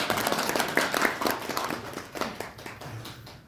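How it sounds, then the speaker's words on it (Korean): Audience applause at a master baker's bakery lecture, a dense patter of clapping that fades toward the end, with some low murmuring underneath. "박수 한번 주세요"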